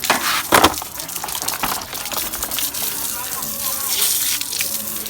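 Water gushes and splashes while a car is washed, a continuous rushing spray with a few louder bursts, heard close and steady throughout.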